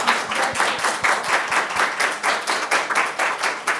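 Audience applause at a pharmacy week event, a steady round of clapping from a group with a fairly even rhythm, close and moderately loud throughout.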